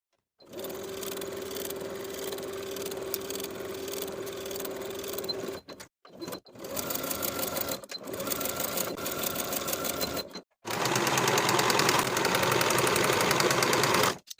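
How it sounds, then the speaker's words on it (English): A sewing machine stitches the shoulder and side seams of a blouse, close, loud bursts of fast rhythmic needle chatter in three runs separated by brief pauses, no voices. "Sew the shoulders and the side seams on both sides with a 3/8 inch seam allowance"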